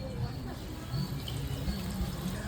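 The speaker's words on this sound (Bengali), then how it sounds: "জলটা ফুটে গেছে" Water with green chillies boils in a cooking pot, a low, steady bubbling and rumbling heard close by, with a voice faintly underneath.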